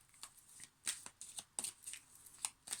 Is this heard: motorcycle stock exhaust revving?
no